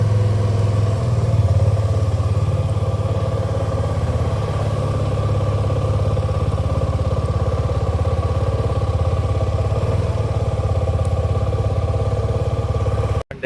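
A motorcycle rides along with a steady, close engine drone and road rumble, continuous and unbroken until a sudden cut at the very end, with no voices.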